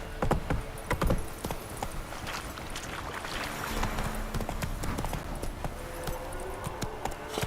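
Hooves of Geralt's horse Roach clip-clop steadily at a brisk pace in Witcher 3, close and rhythmic, over a soft outdoor ambience.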